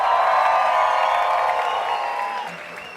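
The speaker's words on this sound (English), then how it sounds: "I paid 99 cents for a applause download just for you" Podcast applause sound effect, a continuous wash of crowd clapping and cheering that holds steady, then eases slightly over three seconds.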